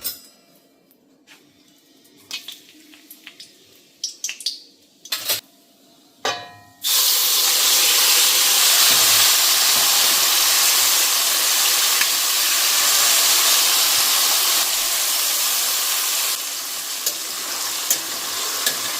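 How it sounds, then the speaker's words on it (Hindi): Ground masala containing cashews goes into hot ghee in a kadai with bay leaves and a piece of cinnamon, after a few scattered clinks and taps. A loud, steady sizzling hiss then rises and holds, easing slightly near the end. "दोबारा से कढ़ाई में घी डाल रही हूँ, और साथ ही डाल रही हूँ 2 तेज़पत्ता और दालचीनी का टुकड़ा, और उसके बाद जो मसाला पीसा था वो डालूँगी।"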